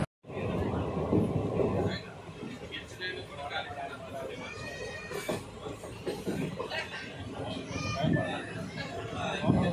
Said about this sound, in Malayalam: ട്രെയിൻ ഭയങ്കരമായിട്ട് കിടന്ന് കുലുക്കം ജെർക്കിങ് ആണ്.